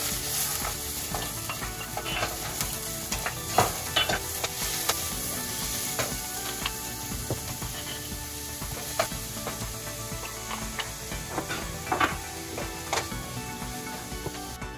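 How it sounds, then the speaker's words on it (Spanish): Vegetables sauté in oil together with cauliflower, salt and pepper under a constant sizzle, with frequent clattering scrapes and knocks from a utensil stirring the pan at an uneven rhythm. "con el aceite, sofreír todos los vegetales y unirlo con la coliflor, la sal y la pimienta"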